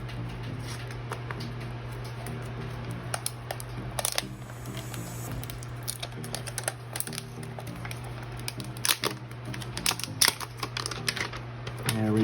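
An LG V60 ThinQ phone box being pulled and ripped open, giving a steady run of crisp paper and cardboard crackles and scrapes, with sharper tearing bursts near the middle and the end, close and fairly quiet over a low constant hum.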